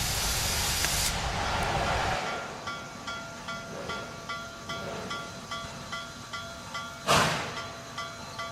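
Steam escapes from a kettle in a strong, steady hiss for about two seconds, then settles into softer rhythmic puffs, with one more sharp hissing burst near the end.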